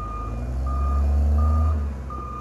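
A CASE 821E wheel loader sounds its reversing alarm: four evenly spaced high electronic beeps repeat over the steady, loud rumble of the idling diesel engine.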